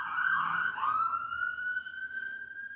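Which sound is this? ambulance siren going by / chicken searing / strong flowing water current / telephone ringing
ambulance siren going by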